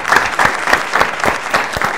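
An audience at a quiz game show claps after an answer, a dense burst of hand claps pulsing in a steady rhythm, loud and close, with no talk over it.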